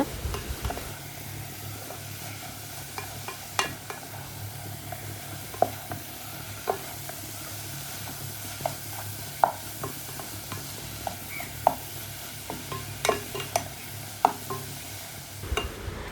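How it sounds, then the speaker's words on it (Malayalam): Onions frying and being stirred in a pan on a medium flame while cooking Thalassery dum biryani: a steady sizzle with repeated scraping taps of a spoon against the pan. "അപ്പോൾ മീഡിയം ഫ്ലെയിമിൽ വെച്ചിട്ട് വേണം നമ്മൾ ഉള്ളി നന്നായിട്ടൊന്ന് മൂപ്പിച്ചെടുക്കാൻ"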